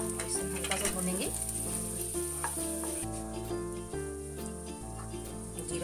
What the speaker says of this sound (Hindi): तेल हमारा गर्म हो गया है, इसमें हम जीरा डालेंगे और इसे हल्का सा भूनेंगे